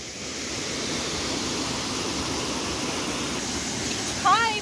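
Steady rushing roar of a waterfall in Portugal, broad and even throughout, with a brief high voice near the end.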